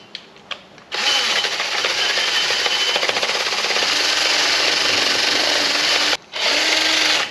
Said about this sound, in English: Just run a wire wheel around that hub